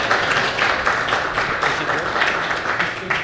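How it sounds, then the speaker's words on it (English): Steady applause from a crowd, dense clapping at even strength throughout, close and fairly loud. "let's give him a round of applause."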